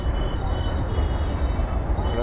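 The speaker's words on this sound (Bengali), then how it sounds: "ওপরে থেকে মেট্রো যাচ্ছে উপরে থেকে" A metro train runs on the elevated track overhead near Bansdroni metro station. It makes a continuous low rumble and roar, heard from inside a car on the road below.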